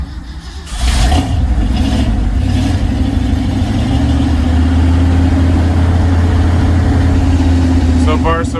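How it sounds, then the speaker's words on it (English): A car engine turns over after carburetor and timing adjustment, then settles into a loud, steady run with the throttle raised, rumbling close to the microphone with a brief rattle near the end. "this time I'll give it gas"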